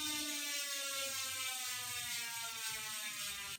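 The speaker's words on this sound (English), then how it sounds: "if you are centered, your wheel will spin freely." A bicycle wheel spins freely after a Crupi disc adapter and rotor are installed, giving a steady, fast ratcheting tick from the freewheel hub with a faint whir, heard up close and alone for the whole stretch.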